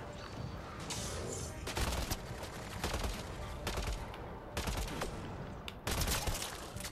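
Firefights in Mass Effect Andromeda bring bursts of loud gunfire in steady, repeated volleys over dense combat noise, each burst lasting about a second, with only short gaps between them.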